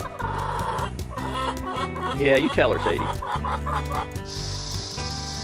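A chicken clucks repeatedly nearby in short, uneven bursts, with a rooster-like call mixed in, while a person talks briefly over the birds.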